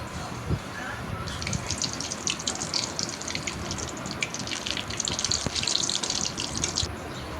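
Water poured into a pan of sautéed potatoes gives a steady, close splashing gush that runs almost unbroken for several seconds, with a faint bubbling hiss underneath.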